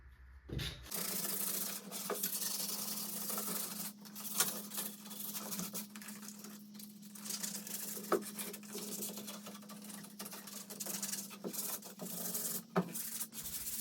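Hand sanding carved wood by sandpaper, a continuous close scratchy rasp of back-and-forth strokes under a low steady hum, with no talk.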